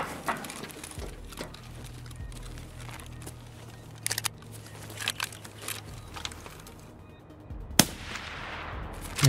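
Scattered gunshots in Escape from Tarkov, with sharp isolated cracks and short bursts over a low background hum, one louder shot standing out near the end.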